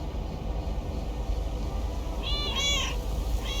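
Mortimer, a video game cat near a lakeside bait shop, gives two short meows late in the moment, fairly quiet over a steady low ambient rumble.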